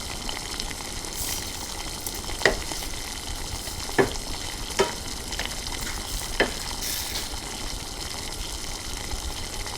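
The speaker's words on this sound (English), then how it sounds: "Slowly add it into the pan and at the same time stirring it to make sure that the sauce is not over thickening." Tomato and egg stir fry bubbling in a pan as sauce is stirred in, a steady sizzling hiss with a few sharp spatula clinks against the pan, close and alone without talk.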